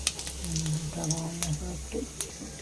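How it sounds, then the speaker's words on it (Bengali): Cumin seeds crackling in hot oil in a wok for a vegetarian potato dum, a faint spattering sizzle running under a voice talking throughout. "কড়াইতে তেল দেওয়া হলো, জিরে ফোড়ন দেওয়া হচ্ছে"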